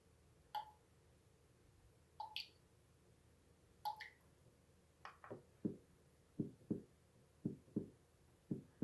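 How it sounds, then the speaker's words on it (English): A white noise machine plays its dripping water sound: single drops plink at uneven intervals, then come faster and steadier in a quiet, close, repeating pattern. "Dripping water."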